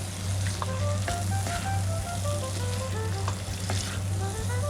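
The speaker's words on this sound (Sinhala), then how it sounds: "අපි චිකන් ටිකත් එකතු කරගත්තට පස්සේ අර අපේ ටෙම්පරාදුව හොඳට චිකන් වලට ගෑවෙන විදිහට හොඳින් කලවම් කරගන්න" Chicken frying with a Sri Lankan tempering for curry, a loud continuous crackling sizzle with steady stirring, close up and without talk.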